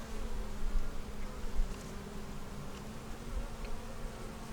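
Honeybees at an open hive, with swarm queen cells present; a soft, steady buzzing drone stays low and continuous, with no talking.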